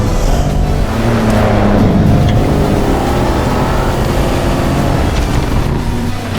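Loud engine of a ROUSH Ford Raptor pickup revving hard under load off-road, a roaring motor rising and holding with rumbling rough-terrain noise, close and continuous.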